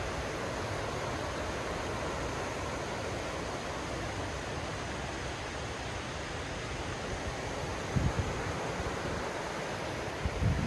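Water rushes steadily along a straight stone-walled mill canal at Sweetwater Creek in Georgia, a dense, even hiss with no talk, broken only by a couple of brief low thumps near the end.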